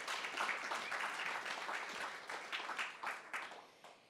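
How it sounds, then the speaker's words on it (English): Applause from a panel-session audience at a radio industry conference, a steady wash of many hands clapping that thins toward the end, with a few louder individual claps standing out. "We give them a round of applause before we get going."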